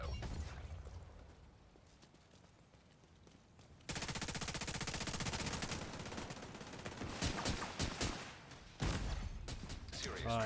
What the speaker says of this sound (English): They got a shotgun from close range, a sniper from long range.